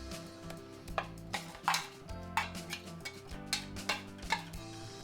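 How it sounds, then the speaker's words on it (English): Chopped thyme, green onion, garlic and oregano going into a pot of Jamaican oxtail, heard as a steady run of close, sharp spoon and pot clanks and taps over a low background hum, with no talk. "I'm going to add my chopped up thyme, green onion, and garlic and oregano leaf into the oxtail."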